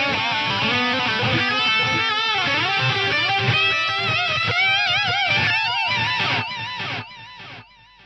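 Heavily overdriven electric guitar runs through a Roland SDE-1000 rack delay with its modulation switched off, a fast lead line ringing with steady, unwavering repeats that trail off over the final seconds.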